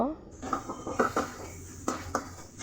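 Spice paste of salt, turmeric, coriander, chilli powder and ginger-garlic paste being stirred in a pan for a fish curry, with a metal spoon clinking and scraping against the pan in short irregular strokes, close and fairly clear.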